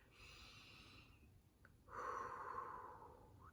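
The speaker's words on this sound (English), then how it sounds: "Take some deep breaths. In, out, in, and out." Quiet deep breathing: a soft airy inhale, a brief pause, then a longer, fuller breath out, close and faint against low background hum.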